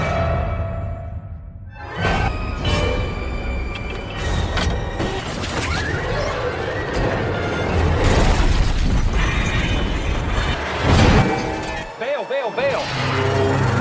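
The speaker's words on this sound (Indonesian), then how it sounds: "kereta masinis senior juga terguling hingga meledak" Train overturning and exploding in the film Unstoppable, heavy crashing, grinding metal and booming impacts over a dense roar, with a short lull near the start and a sudden drop near the end; dramatic, loud and cluttered.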